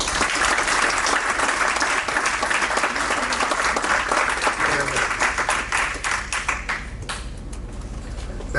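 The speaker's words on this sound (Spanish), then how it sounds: "Recibámoslo con un fuerte aplauso" Audience applause at a university lecture on stock market myths, welcoming the committee president to the stage; dense, steady clapping fills the room for about seven seconds before thinning out toward the end.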